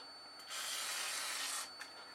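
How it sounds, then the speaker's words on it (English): A single hissing burst of WD-40 sprayed onto aluminium before cutting, close and steady for just over a second, followed by a faint short puff. "I'll give it a bit of a coating of WD-40 around where we're going to cut."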